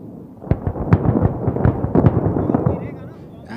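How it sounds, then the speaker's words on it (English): A series of heavy, booming blasts as air-dropped bombs hit a target bridge during an Indian Air Force exercise in Rajasthan, in quick, uneven succession, with dense rumbling bursts overlapping one another over a few seconds. "Watch the bombs fall, moving towards the target for a definite obliteration"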